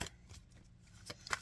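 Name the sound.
shuffling a deck of cards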